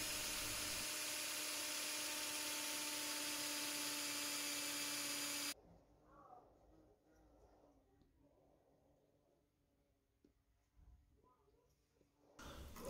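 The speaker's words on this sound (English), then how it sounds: "I need to use a 4mm drill bit to drill a hole in each of the dowels" A power drill bores holes through wooden pine dowels with a 4mm bit, a loud steady whine running for about five seconds, then stopping to leave quiet handling noise.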